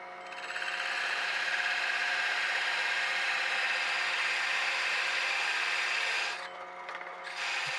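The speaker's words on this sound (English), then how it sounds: "Started by drilling a 1 3/4 inch hole" A drill bores a 1 3/4 inch hole into a ski, a steady, fairly loud grinding whir that holds for about six seconds before easing off and briefly resuming, with no talking.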